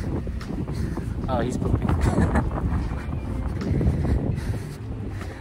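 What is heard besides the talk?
wind blowing outdoors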